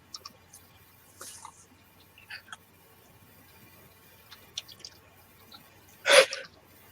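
A single sharp human sneeze bursts out near the end, loud and close, following a stretch of quiet room sound with a few faint clicks and small noises.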